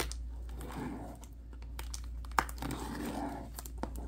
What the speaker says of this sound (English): having trouble with plastic already. Not the best knife.